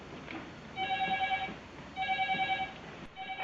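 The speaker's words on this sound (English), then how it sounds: "And the phone's ringing." A telephone rings in a room during a 2008 event drive, two bursts of repeated electronic trilling with a pause between them, fairly close and clear over a low background hum.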